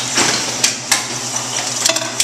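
Bourg SBM booklet maker with its trimmer cutting a booklet set: a steady machine hum with sharp clacks from the blade strokes, close and mechanical, with no talk.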